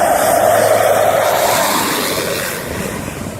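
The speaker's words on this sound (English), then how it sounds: "This plane approaches extremely close over a busy road during landing." A plane on landing approach passes extremely low over a busy road, its engine roar loud and broad at first, then slowly fading as it moves away, with no voices.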